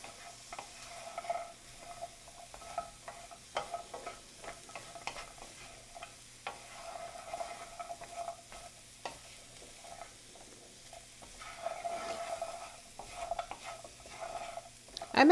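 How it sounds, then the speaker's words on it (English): A pot of chickpea stew with cauliflower and potatoes is stirred over a sizzling heat, with soft scraping and clinks of a utensil repeating steadily against the pot, fairly quiet and close, with no talking. "Stir it around."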